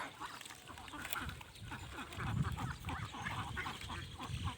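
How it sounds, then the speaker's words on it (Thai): About two hundred laying ducks quack in a busy, overlapping chorus, many birds calling at once at moderate distance with steady outdoor background. "เป็ดไข่ครับ"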